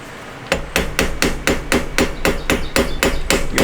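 Regular sharp metallic hammer taps on a hex wrench during a bowstring install on a PSE Levitate compound bow, about a dozen evenly spaced strikes roughly four per second, close and loud with no talking.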